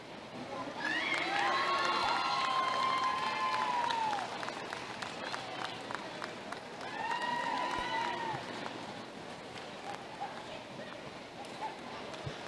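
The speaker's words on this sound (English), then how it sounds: "please follow with a big round of applause" A crowd at a 4-H and FFA fair dairy cattle show breaks into applause and cheering in two swells, heard from a moderate distance over a noisy hall.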